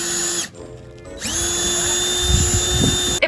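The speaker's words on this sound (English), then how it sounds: "If I didn't put all my body weight on the drill, it did not go through the van." A power drill bores through a metal van roof during a skylight install, a loud steady whine that drops out briefly near the start and then resumes alone with some low rumbling.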